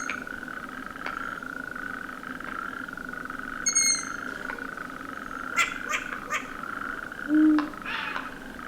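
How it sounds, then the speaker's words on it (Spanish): Amphibians croak and purr steadily in the background on a March evening in the Sierra de San Pedro, with brief owl chick calls and a few soft wing claps scattered over it. "Con todo el ronroneo de los anfibios al fondo."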